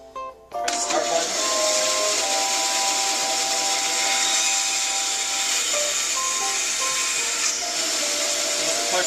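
A power saw cuts steadily through a piece of wood fed with a push stick while making pens, starting with a sharp burst and running loud and continuous for several seconds.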